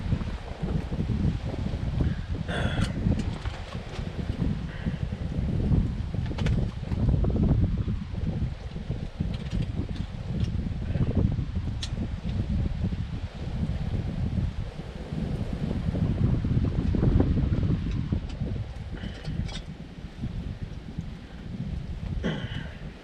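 Gusty wind blows across an open hillside during a solo hike, buffeting the microphone with a low, continuous rumble and rustle that swells and eases throughout.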